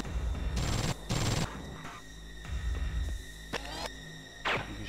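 Bursts of gunfire from the MDK 2 video game, several loud volleys in quick succession over a steady electronic hum, with brief gaps between each burst.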